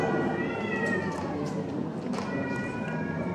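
A cat meows repeatedly, close and clear, with drawn-out wavering cries over a steady room background during a talk in a mosque.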